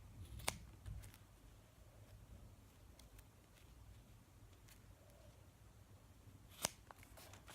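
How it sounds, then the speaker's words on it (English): Scissors snip through stocking fabric, making two sharp cutting clicks, one near the start and one near the end, separated by quiet room noise and faint low rumble. "you'll want to cut off the excess bits"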